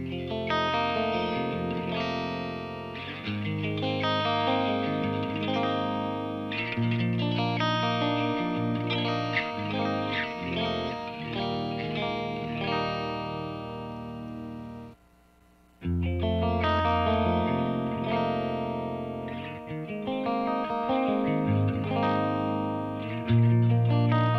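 Electric guitar played through the clean channel of an Engl Savage amplifier with all effects switched off: steady chorded and picked notes ring out continuously, broken by a brief silent gap midway before playing resumes.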